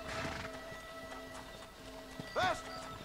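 Horse hooves clip-clop in GTA 5 as a steady light patter under game background sound, with a short whinny near the end, moderately quiet and close.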